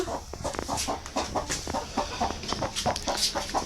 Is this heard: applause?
no